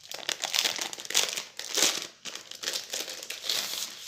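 Loud, continuous crinkling and rustling of plastic wrapping as a diamond painting package is opened up close, with brief pauses between handfuls.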